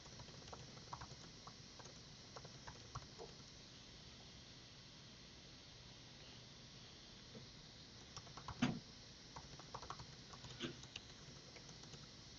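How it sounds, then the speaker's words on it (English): Quiet typing on a computer keyboard in an online chat, scattered soft key taps in short bursts against low room noise, with one louder clack midway. "I'm going to type in the chat."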